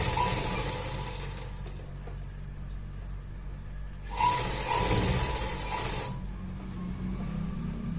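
Sewing machine stitching pyjama fabric in a long, steady run of fast, even mechanical clatter with a brief louder burst midway, close and clear with no talk.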